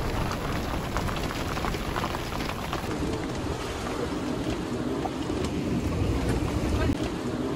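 Steady rain pours during a storm onto a sailboat, a dense continuous hiss with scattered drop impacts, close and even throughout.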